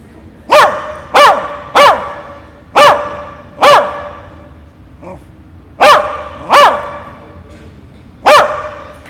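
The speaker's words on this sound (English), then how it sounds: "8 barks every time." A dog barks repeatedly in sharp, evenly spaced bursts, loud and close, with a brief softer yip in the middle and quiet pauses between.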